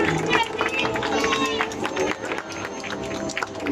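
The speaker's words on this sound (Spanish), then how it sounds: "¡Aplausos, aplausos!" A festival crowd in Tupungato applauds and cheers the newly elected National Grape Harvest vice-queen, a dense, sustained wash of clapping with shouts and chatter mixed in, under a voice speaking over it.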